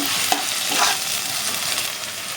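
Ginger, green chili, garlic and onion pastes stirred together in a hot frying pan, giving a loud, continuous close-up sizzle with a few scraping strokes of the spoon, no voices.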